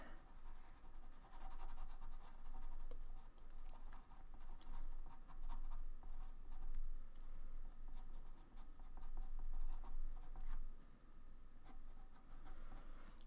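Colored pencil scratching steadily across paper while drawing a white wolf, a quiet, continuous dry rasp of short overlapping strokes with no pauses.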